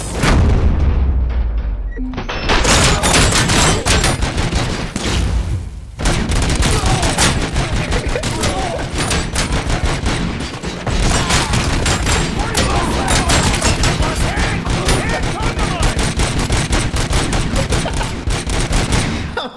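Rapid, loud bursts of video game gunfire rattle almost continuously throughout, with a brief lull near the start, dense and close.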